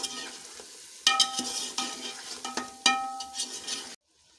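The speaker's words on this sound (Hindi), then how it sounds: "इसको अच्छी तरह मिक्स कर लेंगे।" Nihari masala being stirred into a cooking pot, with a spoon scraping and sizzling in short bursts, two strong strokes standing out before it stops abruptly.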